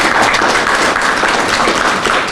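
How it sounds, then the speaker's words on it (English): A crowd at a county police department ribbon-cutting ceremony breaks into a loud, dense burst of applause for the county council, a brief wash of clapping with no speech over it. "we can give them a round of applause."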